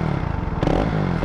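A KTM RC 390 motorcycle fitted with a new exhaust pipe idles with a throbbing pulse, then a quick rev bump lifts the engine note, close and loud.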